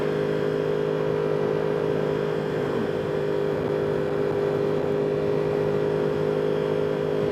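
A 2021 Yamaha R1 with a Woolich tune drones steadily and loudly up close, holding an even engine tone throughout with no talking.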